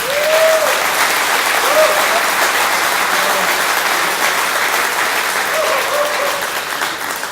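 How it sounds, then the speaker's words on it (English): An audience at the grand opening of a Ford dealership claps loudly and steadily throughout, a thick wash of applause with a few faint cheers and voices mixed in. "So let's give him a big round of applause."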